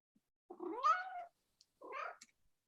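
A cat meows twice, each call a clear rising-then-falling cry close to the microphone, separated by a short pause, with no talking over it.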